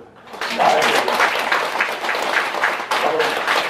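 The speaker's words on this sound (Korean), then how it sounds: "박수 한번 더." An audience at a Buddhist temple lecture on the Lotus Sutra claps steadily and loudly for several seconds after a brief lead-in.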